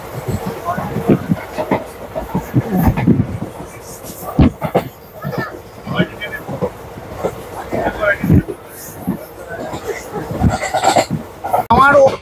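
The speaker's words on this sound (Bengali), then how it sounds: "আঙ্গামালি স্টেশনটার থেকে ছেড়ে দিল ট্রেন।" A passenger train pulling out of Angamali station in Kerala, with a low rumble and intermittent clatter of the carriages heard from inside, mostly under nearby people talking.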